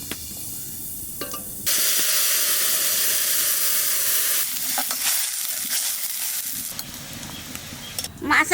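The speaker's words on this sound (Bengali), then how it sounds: "তেলের উপর দিয়ে দেবো কালো জিরে এইবার সর্ষে বাটা দিয়ে দেবো" Mustard paste and nigella seeds hitting hot oil for a Bengali shorshe ilish. A sudden loud burst of sizzling hiss holds for a few seconds, then settles to a softer, uneven frying crackle.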